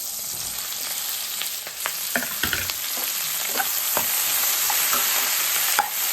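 Pre-roasted okra fries in hot oil while being stirred, a steady crackling sizzle broken by scattered scraping and clinking stirs, close and moderately loud, with no talking.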